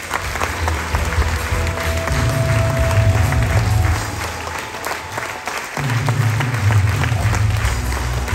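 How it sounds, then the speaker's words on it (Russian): Loud, continuous applause from a Brest concert-hall audience during an award presentation, dipping slightly in the middle before surging again, with a low musical drone underneath. "Ваши аплодисменты."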